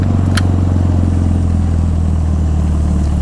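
A 1952 MG TD four-cylinder engine drives in third gear up a grade, a steady, loud mid-pitched drone and clatter of the running motor heard close and alone, with a brief click near the start.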